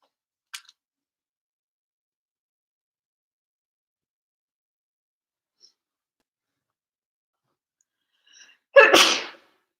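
A single loud sneeze bursts out near the end after long near-silence, preceded by a brief faint sniff and a small click earlier on.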